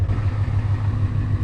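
A 2021 Ford Mustang GT V8 running E85 through stainless headers and a Roush cat-back exhaust, giving a steady, loud, close, low rumble with no clear rev swell.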